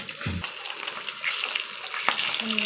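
Oil sizzles steadily as spiny gourd and pointed gourd fry in a pan, with a brief knock at the start and a light clink near the end.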